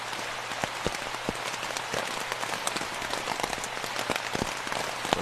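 Steady rain falling on a tent, a dense hiss of drops with scattered louder pattering taps, close and continuous with no talk.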